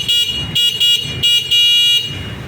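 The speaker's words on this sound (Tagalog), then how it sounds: "ang tinis po ng kanyang horn" A loud, shrill horn from a Yadea GT25 electric scooter honks in rapid repeated pulses, high-pitched and close, with a low hum underneath.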